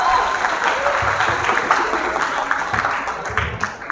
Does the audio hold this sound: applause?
yes